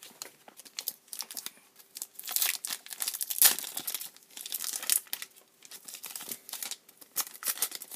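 Foil Yu-Gi-Oh booster pack being torn open up close, a steady run of crinkling and ripping bursts with short pauses between, no talking.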